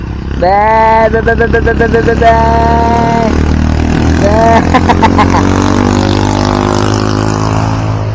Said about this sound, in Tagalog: Ang ingay ng mga motor.